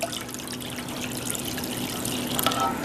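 Water trickling and splashing steadily for a few seconds as about a cup and a half is poured into a cooking pot close by, with a faint hum underneath.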